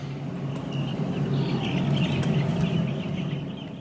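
Chickens cluck softly over a steady, dense background hum, a crowded flock in a huge factory-farm shed murmuring continuously throughout with no clear individual calls standing out.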